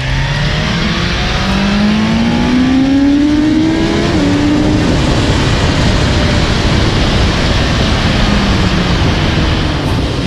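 A BMW S 1000 XR 2020 sport motorcycle engine roars loud and constant, its pitch climbing as it revs hard, then dropping briefly before staying at a high, sustained drone.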